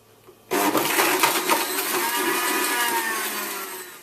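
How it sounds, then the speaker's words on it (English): A blender runs on high, whirring steadily as it blends smoothie ingredients with honey; the motor kicks in abruptly and keeps a loud, sustained churning roar with rattling texture throughout, no talking. "And you want to blend this for about 20 seconds on high."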